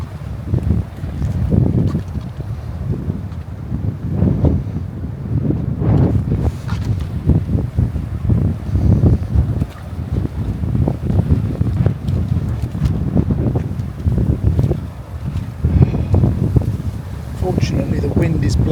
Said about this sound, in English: Fortunately, the wind is blowing the other way, so it's not coming towards me.